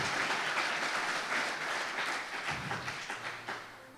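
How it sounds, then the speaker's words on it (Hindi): Church congregation applauding loudly, dense clapping from many hands that holds steady and then thins toward the end. "जोरदार तालियां खुदा के लिए बजाइए।"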